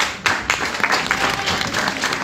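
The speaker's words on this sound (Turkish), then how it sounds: "Ela'ya alkış" A school theatre festival audience bursts into dense, continuous applause, many hands clapping loudly and close for the whole moment.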